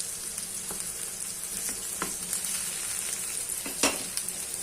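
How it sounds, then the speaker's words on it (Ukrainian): Steady sizzling of hard green banana frying in a pan, a continuous crackling hiss with a few sharper pops and clicks scattered through it, no voices. "щось дуже швидко смажиться"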